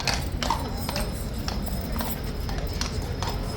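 Horse hooves clop on a hard surface in an irregular rhythm, several sharp strikes close by over a low background rumble.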